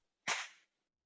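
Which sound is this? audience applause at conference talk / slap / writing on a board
slap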